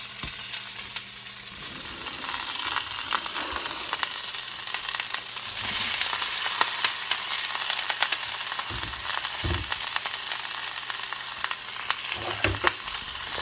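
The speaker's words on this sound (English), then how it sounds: "whenever you're first cooking down peppers and onions, or even just onions" Peppers and onions sizzle steadily in hot oil in a pan, a loud, continuous frying hiss with occasional stirring knocks and scrapes, no voices.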